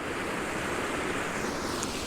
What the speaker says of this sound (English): river, stream running through down here